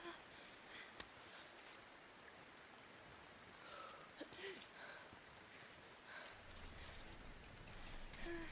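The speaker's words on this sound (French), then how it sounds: "Grimper sous la pluie, votre adhérence diminue par temps de pluie." Rain falls steadily in the climbing game Cairn, a soft continuous hiss of drizzle with faint droplet patter and a few small knocks, rising slightly toward the end.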